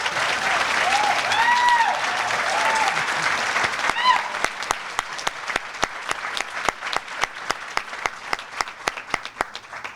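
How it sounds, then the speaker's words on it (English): Luncheon audience at a chamber of commerce expo applauds in a crowded hall, with whoops and cheers over dense clapping that then settles into slower, evenly spaced rhythmic claps. "So give them a round of applause,"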